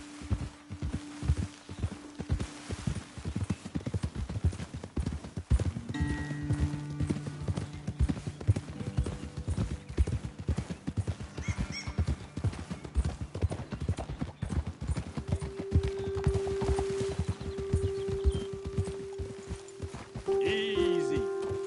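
Horses' hooves clip-clopping on a trail in Red Dead Redemption 2, a steady close rhythm of several hooves with occasional snorts and a brief whinny, while voices speak intermittently over them.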